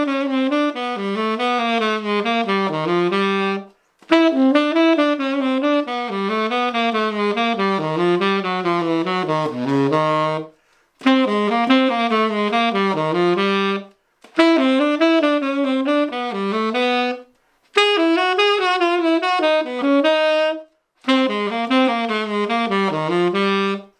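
A melodic pattern is played over chord changes, heard as a run of quick legato instrumental phrases in several separate passages with brief pauses between them, close and clear, with no talking.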